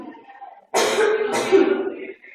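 A child coughs to expel a lodged object during choking first aid, one forceful, harsh cough burst preceded by a faint breathy sound, close and loud.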